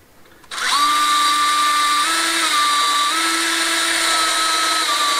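A power driver spins up and runs steadily for several seconds, driving screws to join wooden blocks while building a courtyard outdoor living space; the whine is loud and close, shifting pitch slightly as the load changes.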